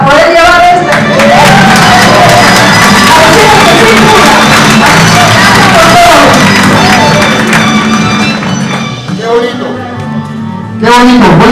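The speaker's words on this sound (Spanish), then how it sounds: "¡Fuerte entonces los aplausos otra vez!" A lively crowd at a Peruvian product promotional event claps and cheers loudly, with shouts and whoops over a booming, rhythmic music bed, briefly dipping before swelling again at the end.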